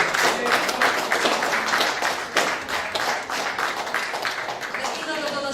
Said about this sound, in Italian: Facciamo un applauso alla nostra presentatrice Giuseppe Mauro.